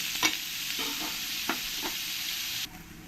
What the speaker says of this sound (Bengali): এবার আমি যে পনিরগুলো নিয়েছি পনিরগুলো হালকা করে একটু ফ্রাই করে নেব